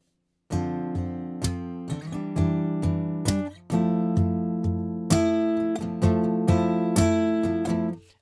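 A drum beat with kick and snare plays under sustained jazz chords in a regular pattern, with a brief break in the groove before it comes back in; no one speaks.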